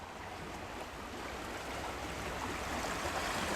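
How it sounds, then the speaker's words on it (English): Rushing stream water flows beneath a bridge in a county park, a steady broadband wash that swells slightly louder toward the end, heard alone without voices. "take a look and listen to the sound of the rushing water"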